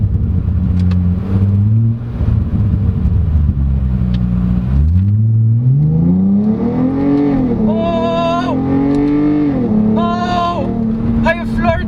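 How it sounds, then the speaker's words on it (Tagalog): A 2015 Hyundai Genesis Coupe with a 3.8-litre V6 accelerates hard at full throttle, its engine note climbing steadily through rising revs with a brief drop at a gear change, loud and continuous from inside the cabin. "Oh! I floored it."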